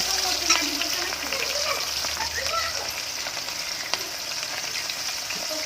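Onions sizzle in a pan with bay leaves during home cooking, a steady hissing fry close by with occasional stirring scrapes, while a voice speaks faintly beneath.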